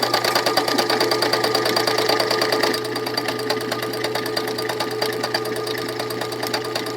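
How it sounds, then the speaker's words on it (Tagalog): A sewing machine stitching an automatic buttonhole runs in a fast, even mechanical chatter of needle strokes, loud and close, its tone shifting slightly partway through as the stitch pattern changes. "i-try natin yung buttonhole niya kasi special ito sa mga buttonhole."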